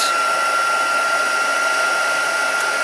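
Hair dryer blowing steadily on damp card pieces at a desk, a continuous close, even whoosh with a faint whine and no pauses.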